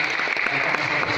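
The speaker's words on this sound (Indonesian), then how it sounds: "tepuk tangan juga buat beliau" Audience applause at an Indonesian book launch event, a steady dense patter of clapping filling the whole short moment with no talk over it.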